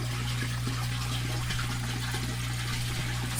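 Water running over and draining in a basement, a steady low hum of flowing water with a constant drone beneath it and small splashes, continuous and close by.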